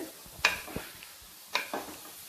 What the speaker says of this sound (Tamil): இது ஒரு 2 நிமிஷம் ஹை ஃப்ளேமில் நல்லா ஃப்ரை பண்ணிக்கலாம்.